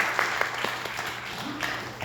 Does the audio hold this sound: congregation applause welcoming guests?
yes